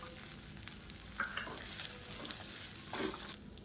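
Chana dal, curry leaves and grated coconut roast in a pan with steady sizzling and frying crackle, punctuated by scraping stirs, close and moderately loud with no talking.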